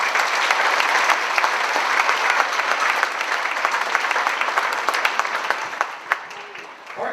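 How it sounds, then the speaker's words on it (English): An audience at a school jazz band concert applauds the young performers, a broad, sustained wash of many hands clapping, fairly loud and even, thinning slightly toward the end. "Give those kids a huge round of applause."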